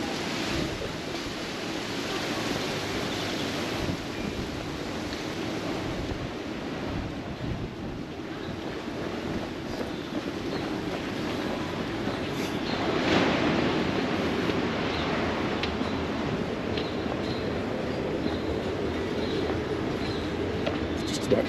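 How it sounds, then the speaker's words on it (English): Sea surf on a calm beach at Palmanova, Mallorca, a continuous washing roar of small waves with a slightly louder wave breaking partway through, steady wind noise over the microphone and no talking. "I heard a wave crashing on the beach"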